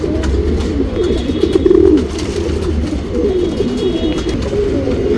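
Tournament pigeons kept for breeding, cooing in a steady low murmur of overlapping coos close by, with a slightly louder burst partway through and no talking.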